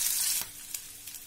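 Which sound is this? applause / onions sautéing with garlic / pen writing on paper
onions sautéing with garlic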